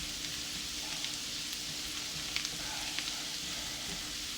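Onions fry in a pan for a Dhaka-style khatua dish, a dense steady sizzle with occasional small pops and stirring clicks, close and alone.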